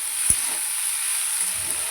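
Slit green chillies hitting a hot pan of greens, a single sharp drop then a steady close hiss of frying with a brief stir near the end.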